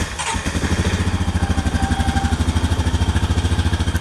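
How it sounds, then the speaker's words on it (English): A 2017/2018 Honda Rancher 420 ATV engine cranks and catches, then settles into a loud, close, steady idle with an even rhythmic chug. "I'm gonna start it up and let it idle for a few minutes."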